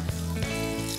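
Paneer pakoras frying in hot oil, a close steady crackle and sizzle with a few soft clunks from the pan.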